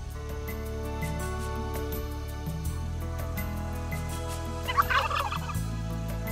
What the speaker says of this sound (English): the turkey gobble fills the forests